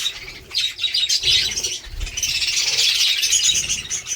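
Pet birds and chicks feeding together, a dense close chorus of chirps, tweets and squawks with occasional wing flutters, continuous and fairly loud.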